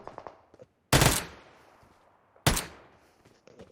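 Two sharp, loud gunshots from PUBG Mobile on the Erangel map, spaced about a second and a half apart, each with a decaying tail, with faint voice and game noise between them.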